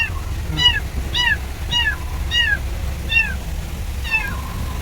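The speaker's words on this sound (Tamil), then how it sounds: "பூனை இதில் இருக்கு." A cat meows repeatedly, six or so clear, close cries at a fairly regular pace over a low background rumble.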